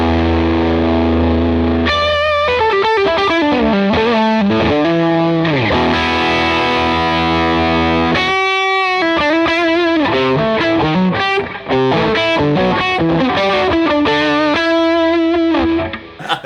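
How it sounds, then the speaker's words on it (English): A fuzz guitar run through a Gladio SC overdrive pedal plays loud, saturated chords and sustained notes with a thick, distorted edge, broken by brief pauses and a restart before the phrases ring on. "the more the fuzz sound is allowed to pass by the Gladio SC and go straight to the"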